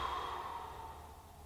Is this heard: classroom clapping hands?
no